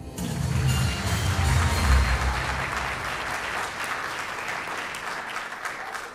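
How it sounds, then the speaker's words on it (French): Audience at a French stage contest applauds as a contestant is introduced, a thick and steady wash of clapping with a low rumble in the first seconds that thins out a little toward the end. "Mesdames et messieurs, s'il vous plaît, veuillez applaudir Véronique François."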